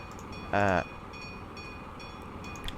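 Trains run between stations in the video game OpenTTD. A short, loud, rising electronic tone sounds briefly over a low, steady rolling background, followed by a few faint clicks.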